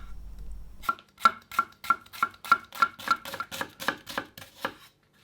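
A knife chops a shallot rapidly on a cutting board, about a dozen crisp, evenly spaced taps in a steady rhythm, close and clear without speech.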